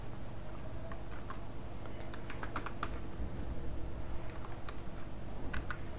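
Python code being typed on a computer keyboard, heard as a quiet, irregular patter of key clicks with short bursts and pauses over a steady background hum, with no talking.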